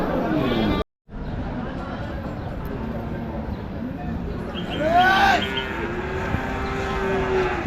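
Cattle at a village cow market, with a loud lowing moo rising midway over a constant din of crowd chatter and market noise, people talking throughout.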